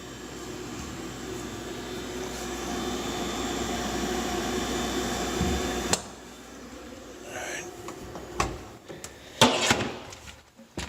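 A new condenser fan motor in a GE refrigerator runs as a steady, even whirring hum for about six seconds, then cuts off, leaving quieter room sound with a few brief knocks and clicks.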